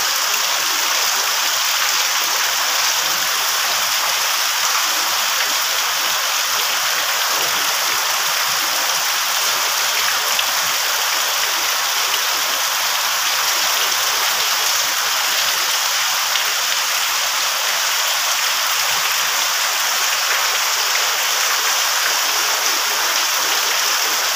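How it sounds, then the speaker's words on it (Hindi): Steady rain after many days without it, pouring continuously as a dense, even hiss throughout, with no pauses or voices. "बहुत दिन पर वर्षा है बाबा देखो"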